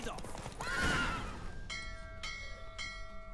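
A horse whinnies briefly in The Witcher 3 video game, with hoofbeats and muffled voices beneath, followed by three clear bell-like chimes ringing out at even intervals.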